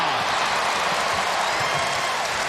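A college basketball crowd at a Kentucky versus Lafayette game cheering and applauding in a steady, loud, dense roar that fills the whole moment with no break.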